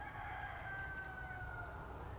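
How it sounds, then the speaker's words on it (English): A rooster crows at a distance in an outdoor hunting setting on a morning with a north wind, its drawn-out call rising over steady low wind and background rumble, with no talk. "I hate that stupid rooster"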